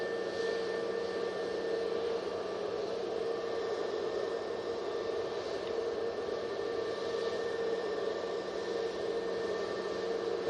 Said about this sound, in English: It's always nice to do a nice extended departure on the Mighty Beast.